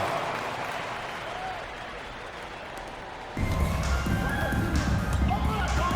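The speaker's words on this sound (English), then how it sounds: "Give yourself a round of applause." Crowd applause and cheering swell up in a basketball video game (NBA 2K25), growing louder midway, with an announcer-style voice talking over it and a few ball bounces.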